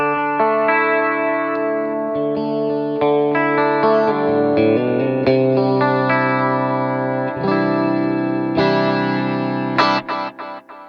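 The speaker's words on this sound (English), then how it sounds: "And I decided to go with the tape echo." Clean electric guitar chords and picked notes run through a tape echo pedal on a worship pedalboard, each note trailing soft repeats with gentle warble and modulation, ending on a few fading stabs.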